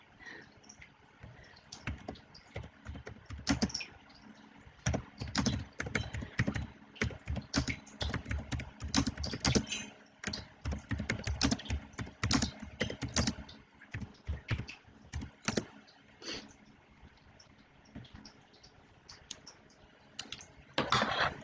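Fast, irregular typing on a computer keyboard, close and clear, with dense bursts of key clicks and brief pauses running for over twenty seconds without speech.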